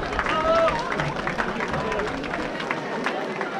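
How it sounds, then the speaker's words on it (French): Audience applause for runners finishing a 10 km road race on the Côte de Granit Rose, steady crowd clapping and cheering throughout, fairly loud, with a brief whistle early on. "On peut les applaudir bien fort"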